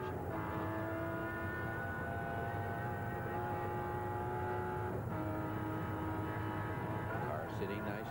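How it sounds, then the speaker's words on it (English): 1985 Bathurst race car on a pole lap, engine note droning steadily with sharp overrun shifts as it hits bumps, loud and close throughout under an ongoing commentary voice. "You can hear the overrun of the engine when it just hits some of the bumps"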